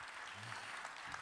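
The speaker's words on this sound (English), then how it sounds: "Listen to that applause." Steady applause from a conference audience welcoming panelists at a main-stage panel, a faint, even patter of many hands clapping that continues without pause through the short moment.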